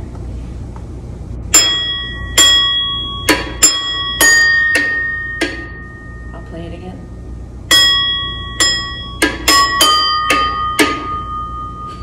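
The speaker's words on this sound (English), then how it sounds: "I'm gonna play one song for you on these water glasses" Bright ringing tones from water glasses struck with spoons, one at a time in a simple melody, two phrases separated by a pause, with a voice speaking briefly in between.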